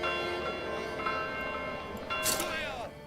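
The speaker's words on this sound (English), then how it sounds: "I think that was the church bell ringing out, wasn't it?" A church bell rings out in the medieval town-building game Manor Lords: sustained, overlapping bell tones hum steadily at moderate volume over game ambience, with a brighter swell of strikes near the end.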